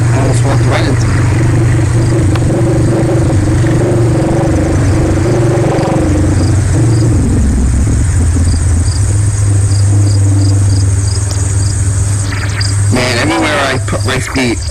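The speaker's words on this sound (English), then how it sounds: "Hear those crickets?" Crickets chirp steadily outdoors in rural upstate New York, a loud continuous insect trill running throughout, with a vehicle engine rumbling underneath and a burst of clicking near the end.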